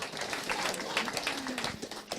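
An interview audience claps in a brief scattered burst of hand claps, fairly close and uneven, with voices talking over it.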